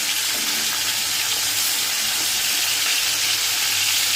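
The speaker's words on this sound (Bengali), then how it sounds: "মাছটাই যে এবার ভাজছি" Marinated bhetki fish frying in a pan of oil, producing a loud, continuous close-up sizzle with dense crackling and no talk.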